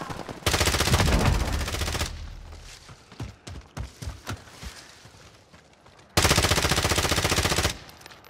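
Two sustained bursts of rapid automatic gunfire from a tactical shooter video game, loud and dense, separated by a stretch of scattered thumps, footsteps and quieter shots.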